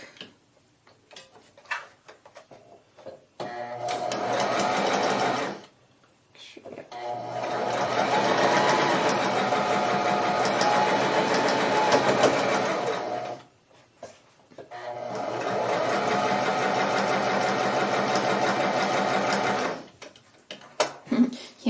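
A sewing machine runs in three long steady bursts while stitching a seam on a quilt test block, a close, even mechanical whir and tick with short pauses between runs.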